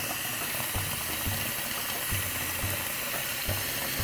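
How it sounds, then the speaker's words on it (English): Kitchen tap running steadily into a sink being filled for dishwashing with a few drops of Dawn detergent, a constant close hiss and splash with faint clinks underneath. "so I got my water running"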